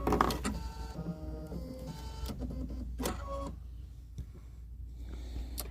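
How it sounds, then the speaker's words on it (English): A Baby Lock sewing machine stitches a decorative pattern, giving a steady mechanical whir with shifting motor tones and a few sharper clicks, close up and fairly quiet with no talk. "it's going to stitch our first decorative stitch"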